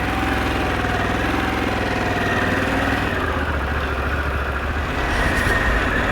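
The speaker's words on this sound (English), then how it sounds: "The Harley Davidson Pan America ST. Let's take it for a little ride." A Harley-Davidson Pan America 1250 ST motorcycle engine runs at a steady, loud rumble, close by and continuous with no pauses.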